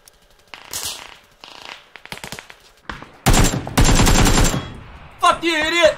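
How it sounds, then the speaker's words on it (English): Automatic gunfire in the PUBG battle royale game, scattered quiet shots at first, then loud sustained close bursts, with a voice shouting near the end. "Shooting at me over here."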